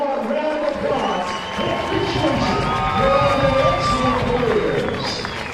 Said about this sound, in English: This group of seniors, one more round of applause.